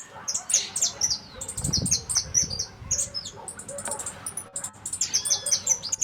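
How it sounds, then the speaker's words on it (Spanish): Bright, high chirping song of a saffron finch repeats in quick bursts over several seconds, with a low background rumble and faint noise underneath. "Jilguero dorado."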